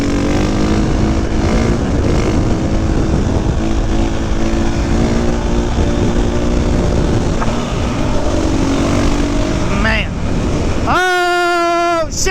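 A 2022 KTM EXC 500 dirt bike engine roars loudly and steadily while riding, with heavy wind buffeting the microphone, then revs sharply upward in a rising whine near the end.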